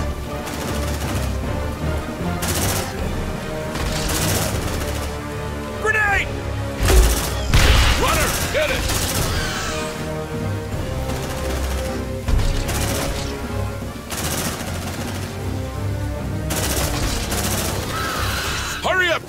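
Squad gunfire in the sci-fi game Aliens: Dark Descent, rapid sustained bursts of automatic fire mixed with impacts and effects, with voices shouting over the shooting.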